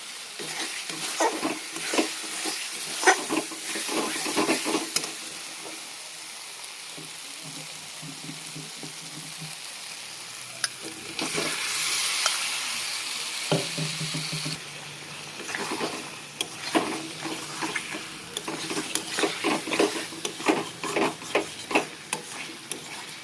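Potatoes fry with spices and shahi garam masala for aloo dum, giving a soft sizzle with intermittent stirring and scraping in the pan, fairly quiet and close throughout.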